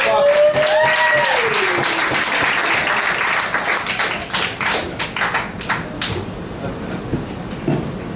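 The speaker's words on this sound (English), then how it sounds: "Let's give him a warm round of applause." Audience applause at an open mic night at Cafe Diem in Charlottesville, clapping that starts loud and dense and then thins out over several seconds, with a voice and cheering near the start.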